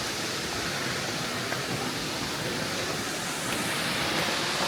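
A waterfall gives off a dense, continuous roar of rushing water. It is steady and fairly close, fills the whole stretch and has no voices over it.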